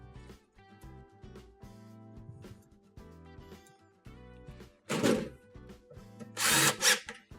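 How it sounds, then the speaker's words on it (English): A power drill drives screws to re-secure a panel on a Whirlpool stove, making several short whirring bursts with pauses between them and a harsher, louder burst of screw-driving noise near the end. "using the 6 1/4-inch screws we removed earlier, we're going to go ahead and re-secure these"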